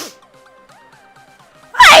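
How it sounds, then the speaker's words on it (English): A single sharp sneeze bursts out at the very end after near silence with faint tonal sounds in the background. "I'm about to sneeze."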